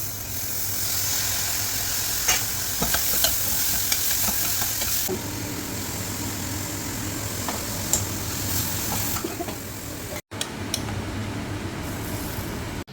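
Sprouted moth beans are tempered in hot oil with asafoetida, curry leaves and onion, producing a loud, continuous hissing sizzle with scattered stirring scrapes and clicks throughout.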